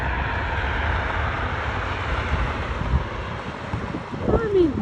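A Delta airliner touches down at Cleveland Hopkins airport, a distant broad rumble of jet noise under heavy wind buffeting on the microphone, swelling briefly near the end.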